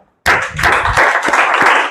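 Audience applause in a classroom-style gathering on Teacher's Day, starting abruptly after a brief silence and continuing as a steady, loud wash of clapping to the end.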